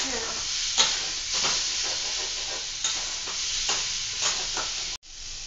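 Chopped tomato sizzling and frying in a pan, a steady close hiss broken by repeated stirring scrapes, with a sharp clank near the end.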